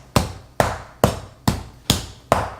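A tenderizing mallet pounds meat for saltimbocca with six sharp, evenly spaced whacks, each about half a second apart, loud and close with a short ringing decay and no talking.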